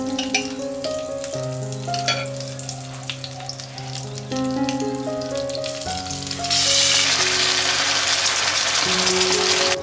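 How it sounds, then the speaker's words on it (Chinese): Pork potstickers fry in an oiled pan with a steady sizzle under continuous background music, and the sizzle swells much louder and brighter over the last few seconds. "底部煎至微黄"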